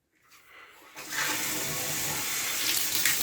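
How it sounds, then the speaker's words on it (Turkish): Water and loosened dirt gush from a radiator valve opened with a pipe wrench while a heating system is flushed, a close, steady rushing flow that starts softly and swells quickly. "Şimdi buradan musluğumuzu açıyoruz."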